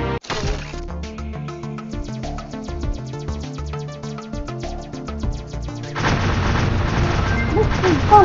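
Gunfire from the video game Alien Shooter rattles through as rapid, sharp shots over a tonal game soundtrack, then gives way to a denser, noisier burst of shooting and explosions.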